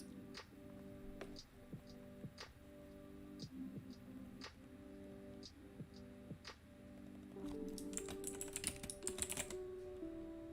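Keys clatter on a computer keyboard in a home setup during a live chat stream, with irregular close taps and short bursts, growing busier and more rapid toward the end, with a faint steady hum underneath.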